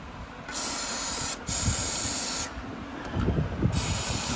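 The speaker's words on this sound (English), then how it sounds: "you just spray it all over your manifold because the manifold's coming up anyway" Aerosol spray hisses onto the engine manifold and bolts of a 2013 GMC Chevy, three sharp bursts of close, bright hissing separated by short pauses, with faint handling noise between them.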